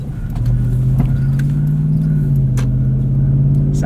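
The 4.7-liter Toyota V8 of a 2007 Lexus GX 470 idles with a deep, steady rumble and swells slightly as it is revved, loud and close throughout.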